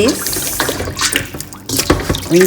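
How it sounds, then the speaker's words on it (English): Water mixed with vinegar splashes and trickles as a piece of fish is rinsed outdoors, irregular close splashes and drips with brief voice sounds in between. "So I'm just going to be rinsing this piece with a little tip of vinegar."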